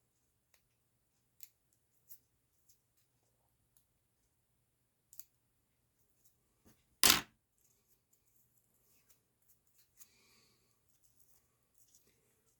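Scissors cut packing foam for a fly-tying wing with a few faint, sparse snips and clicks in a quiet room, one sharper louder snap partway through.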